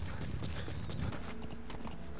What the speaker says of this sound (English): Definitely not a guy riding a horse.